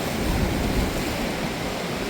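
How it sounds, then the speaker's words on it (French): Big ocean waves break against a rocky shore close by, a steady loud roar of surf and churning water with no pauses and no voices. "C'est vrai qu'il y a des grosses vagues"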